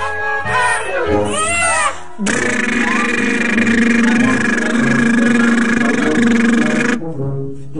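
A father imitates an engine with his voice, a loud, sustained buzzing drone held for several seconds close to the mic, framed by shorter vocal sounds before and after.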